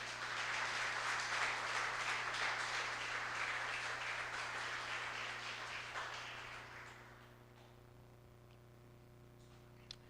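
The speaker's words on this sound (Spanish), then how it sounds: "Dale un aplauso al Señor en esta noche" A church congregation applauds at a night service, a full burst of clapping over a low steady hum that tapers and dies out after about seven seconds, leaving a quiet room.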